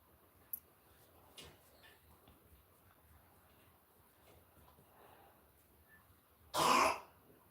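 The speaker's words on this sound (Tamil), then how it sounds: "இருமல்" A single loud, harsh cough bursts out near the end after a long quiet stretch with a few faint ticks and clicks.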